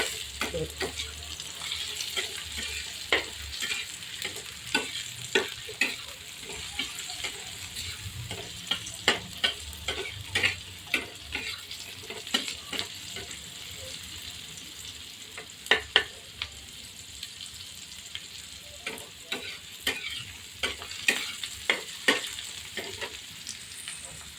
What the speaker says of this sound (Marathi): कांदा छान भाजत आलेला आहे आपला